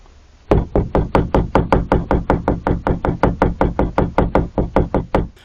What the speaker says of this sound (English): knocking is just knocking